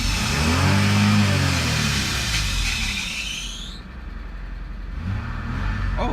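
Car engine revving hard with a loud high-pitched squeak or scream riding over it, pitch climbing then cutting off, followed by a lower idle that swells again near the end.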